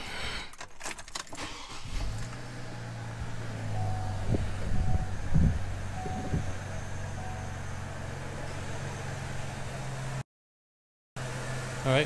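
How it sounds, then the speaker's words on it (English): A Chevrolet Trailblazer engine, just fitted with a K&N air filter after a throttle body cleaning, is started after some clicks and jingling, then settles into a steady low idle, with a brief gap near the end. "Let's start her up and see how she sounds with this K&N filter."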